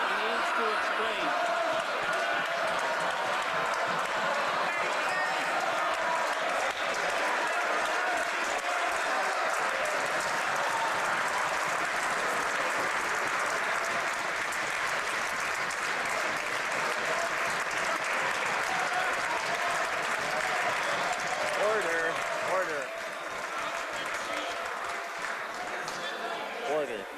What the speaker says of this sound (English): I've asked members previously to hold off on their applause till the members are finished asking the question